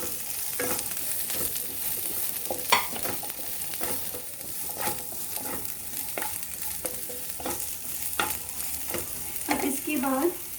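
Vegetables for bread lasagna stir-frying on a high flame, a continuous sizzle with repeated scraping stirs of the spatula in the pan, close and steady throughout.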